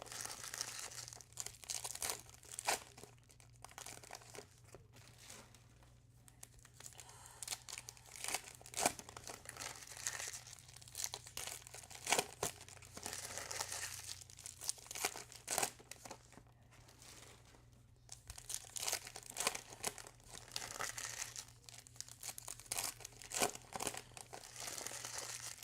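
Topps Allen & Ginter football card packs being torn open, foil wrappers crinkling and crackling continuously in close, busy bursts over a steady low hum, with no talking.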